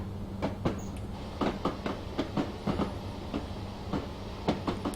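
Two Northern Class 142 trains roll in side by side in Train Simulator, giving a soft rumble broken by irregular clicks and clunks of wheels over rail joints, fairly quiet and steady.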